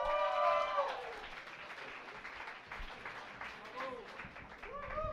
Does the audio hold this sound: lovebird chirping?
no